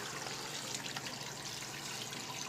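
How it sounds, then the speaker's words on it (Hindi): Water pours steadily into a pressure cooker holding mutton for yakhni pulao, a faint, continuous splashing trickle heard alone at close range. "2 लीटर पानी डालेंगे।"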